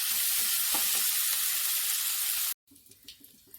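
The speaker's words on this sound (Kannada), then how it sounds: "ಶುಂಠಿ ಇವನ್ನೆಲ್ಲ ಒಟ್ಟಿಗೆ ಸೇರಿಸಿ ಹುರಿದುಕೊಳ್ತಾ ಇದ್ದೀನಿ" Ginger and spices frying in a pan for shark fish sambar give a loud, steady sizzle with faint stirring taps, then cut off abruptly into a quieter, softer crackle.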